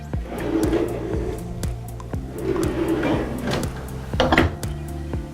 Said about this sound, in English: On the aft side in the saloon you have a lot of drawers.